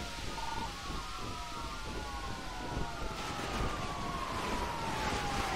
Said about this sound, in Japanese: パトカーもう一度来た。